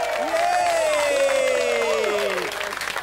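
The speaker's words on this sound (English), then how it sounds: "Give them a nice round of applause." A studio audience on a British TV talk show gives a round of applause, a continuous burst of clapping with some cheering and tonal sounds layered over it.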